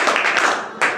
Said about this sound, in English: Clapping for the Utkarsh.